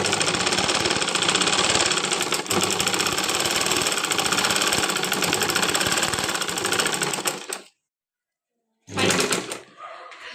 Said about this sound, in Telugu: ఇలా మడిచి ఫోల్డ్ చేసి కుట్టుకోవాలి